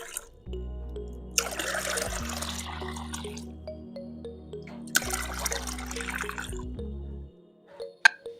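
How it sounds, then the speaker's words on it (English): Water runs and splashes into a container in two bursts separated by a pause, with a low hum underneath and a faint clink near the end, for making fermented cornflour water. "So I'll fill this with water."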